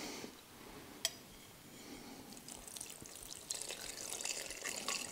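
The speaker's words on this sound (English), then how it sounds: "Now we're going to pour our Jell-O over the cake." Liquid Jell-O poured over cake for an old-fashioned Irish trifle, heard as soft, quiet trickling and dribbling with a faint drip or tap near the start and a slightly fuller pour toward the end, with no talking.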